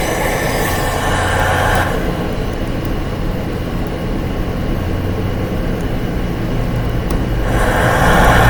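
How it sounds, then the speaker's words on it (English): A train rolling slowly along a British railway line, a steady loud rumble and broadband wheel-and-track roar throughout, swelling slightly toward the end, with no talk. "Train is moving nice and slow."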